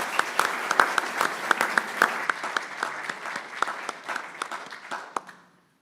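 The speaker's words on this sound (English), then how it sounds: "Now, please give them a round of applause for all their hard work." A debate audience at a congregation hall gives a round of applause, a fairly small crowd whose individual claps stand out crisply as a brisk, uneven patter, moderately close, before fading out to silence.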